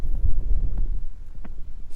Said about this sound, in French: Il y a un petit vent, c'est pas désagréable, même si le vent il est chaud